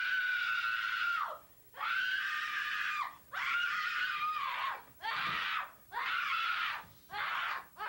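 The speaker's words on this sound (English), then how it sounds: "Stop screaming." A person screams in repeated long, loud bursts, roughly six cries separated by short breaths, harsh and close, with no other talk.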